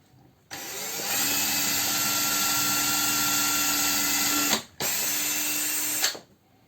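A power drill with a 2 mm bit bores into wood in a woodworking shop: a steady, loud motor whine runs for about four seconds, cuts out briefly, then spins up again for another burst.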